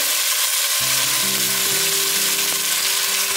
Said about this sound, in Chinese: 冷油把姜片慢慢煸香，大约煸了1分钟左右，可以把食材放进来了。